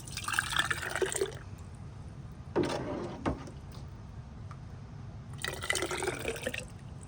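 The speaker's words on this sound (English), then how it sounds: "we're going to ladle this into our jar" Pasta sauce with basil, garlic and oregano is ladled into a 1.5-pint jar, giving soft wet pouring and dripping sounds in short bursts, close and quiet.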